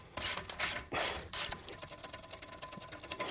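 Ratchet loosening a clamp bolt of a Toyota Land Cruiser tie rod end, four quick bursts of loud clicking near the start, then quieter faint workshop noise.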